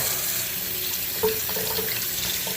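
Water runs steadily from a tap into a container while Oxyol cleaner solution is mixed up for carpet pre-treatment, a continuous close hiss with a small splash partway through.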